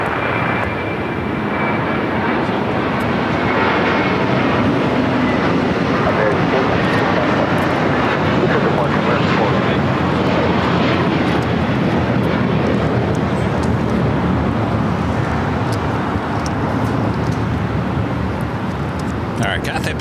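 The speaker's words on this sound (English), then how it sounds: "It's the takeoff." An Airbus A321 jet airliner takes off at LAX, its engine roar loud and sustained, swelling and holding steady for the whole span with no pause, while a voice talks over it.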